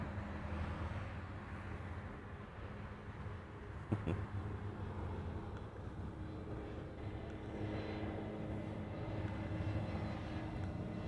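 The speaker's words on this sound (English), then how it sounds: "We are waiting for a UPS Queen to land on runway 8 left" UPS Boeing 747 coming in to land on runway 8 left in Honolulu, a broad continuous jet roar heard from a distance that holds steady and swells slightly toward the end, with one brief sharp knock partway through.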